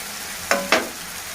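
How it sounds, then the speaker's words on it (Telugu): Spoon stirring an egg and broad bean curry with coriander powder in a pan, giving two quick scraping strokes over a constant low sizzle. "కలుపుకోవాలి ఇప్పుడు ధనియాల పొడి"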